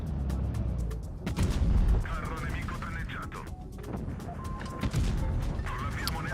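Tank cannon fire in a video game, a few heavy booms and impacts scattered through the clip amid game noise, with people talking over it.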